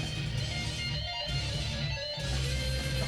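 A guitar solo from a Brazilian death metal record rings out over dense, heavily distorted doomy backing with low rumbling drums, loud and continuous with no talking.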